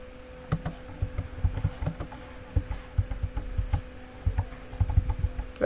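Fingers type on a computer keyboard in irregular bursts of close, light clicks and taps over a low steady hum, with no talking.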